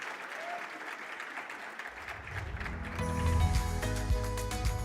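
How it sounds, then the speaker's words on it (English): An audience at an HR conference breaks into applause for a panel, starting faint and swelling into a fuller round of clapping from a roomful of people, with music rising underneath. "Please, let's give them one final round of applause."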